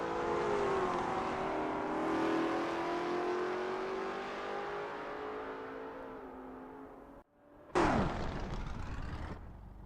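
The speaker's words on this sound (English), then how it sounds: "The engines are revving up and the drivers are ready to hit the gas pedal for this qualifying session" Engines of 1969 Formula 5000 race cars rev during a qualifying session at Oesterreichring in the Assetto Corsa racing game, a loud sustained drone rising and falling in pitch, dropping out briefly near the end before a sharp, loud burst of revving.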